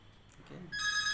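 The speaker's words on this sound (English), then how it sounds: "Don't worry about that ringing phone." A phone starts ringing partway through, an electronic ring with a bright, steady tone that stands clear of a quiet room after a brief murmur.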